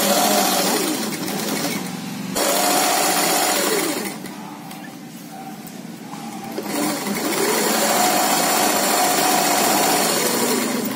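A sewing machine runs in steady bursts stitching the shoulder seam of an umbrella gown, with a short pause near the start and a softer stretch midway before the motor picks back up, loud and close with no talk.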